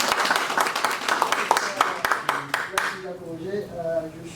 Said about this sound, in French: Donc je vous demande donc de l'applaudir